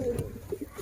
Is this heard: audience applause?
no